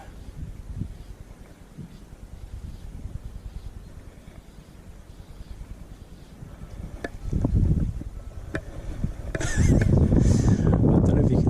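Wind gusting across an open fly fishery on a trout fishing outing, a steady rumbling buffet on the microphone that swells louder and rougher toward the end, with no talk.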